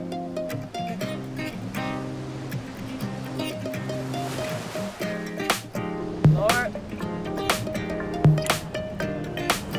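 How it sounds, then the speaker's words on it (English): Ocean surf surges and crashes against a coastline at a deep water solo climbing spot, a steady rushing wash under a loud tonal hum with sharper splashes toward the end, and a voice talks briefly. "Oh man, the waves are crazy."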